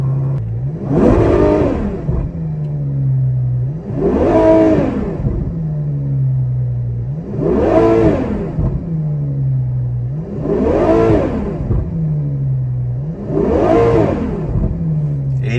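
A Ferrari fitted with a custom titanium exhaust revs to about 5,000–6,000 RPM five times in steady succession, each loud rising roar falling back to a droning idle between pulls, close and without speech.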